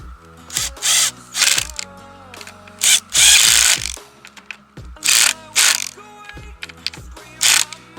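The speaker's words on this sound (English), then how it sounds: "Alright, Dave, can you just torque that down?" A ratchet tightens the wheel axle on a 2007 KTM 525 EXC motorcycle in a workshop, loud, close clicking bursts coming in short irregular runs with brief gaps between them.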